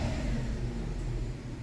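A Kia Sportage with a 2.7 engine, which has cylinder misfires and surges when accelerating, runs close by in a loud, continuous engine roar for under two seconds, with no talk.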